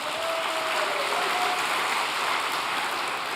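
A hall full of people clapping at a church prayer vigil, dense steady applause throughout, loud and close with no talk over it.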